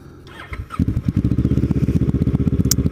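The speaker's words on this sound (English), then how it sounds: "decided to sort of get back into riding my motorcycle and recording some of the rides" A Ninja motorcycle engine cranks and catches after a brief clatter, then settles into a loud, close, rapid rhythmic idle throb.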